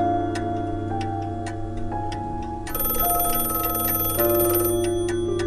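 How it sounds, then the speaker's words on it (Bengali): A telephone bell rings at midnight over a steady background of clock ticks, with a bright, busy burst of ringing starting partway through. "টেলিফোনের ঘন্টা।"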